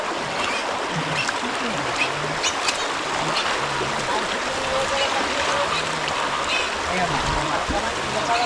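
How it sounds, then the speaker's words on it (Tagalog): Water swollen after rain rushing and gurgling steadily in a fast-moving stream, a continuous broad wash with faint voices and bird calls in the background. "Kaya medyo malakas yung tubig."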